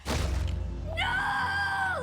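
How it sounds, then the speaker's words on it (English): An animated My Little Pony: Friendship is Magic character lets out a loud, drawn-out scream after a brief thud, the cry rising and holding for about a second. "that scream still gives me goosebumps"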